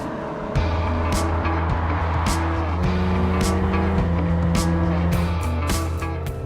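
A 2018 Kia Stinger GT sports sedan drives on the road, its engine a steady, loud drone with shifting tones as it accelerates, plus a few sharp clicks and bumps along the way.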